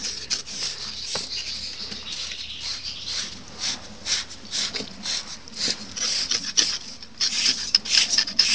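A slaughtered pig's head is scraped clean while being washed, with repeated short, rasping strokes in an irregular rhythm, fairly close and moderately quiet against faint background noise.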